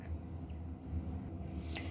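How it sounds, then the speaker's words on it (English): Scissors trim fabric just above a basting line near a zipper on a sewing project, a faint close snip over a low steady room hum. "I'm going to gently trim just right above that"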